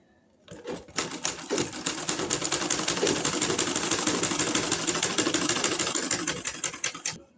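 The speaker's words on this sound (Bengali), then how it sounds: "এখন এই তো সেলাইটা শুরু করে দিচ্ছি।" A sewing machine stitches a doormat made from old cloth and a rice sack, running in one continuous close burst of rapid, even needle strokes after a brief quiet start.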